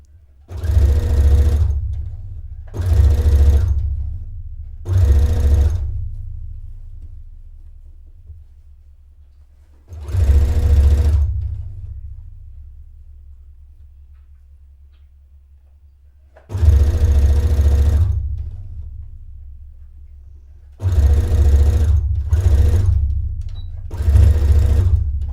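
Domestic sewing machine running in repeated loud bursts of steady motor whir while stitching around a dress neckline, each run stopping abruptly with quiet pauses between, close up.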